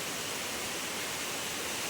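A waterfall at Bandhtivare village near Dapoli plunges from a height with force, giving a steady, dense, broadband rush of falling water that fills the whole stretch evenly with no pauses.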